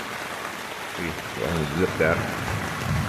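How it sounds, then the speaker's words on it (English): Rain drums steadily on a tent rainfly during a cold morning thunderstorm, a constant close hiss and patter running under a person talking nearby. "The water is just beating off the rainfly here, it looks like."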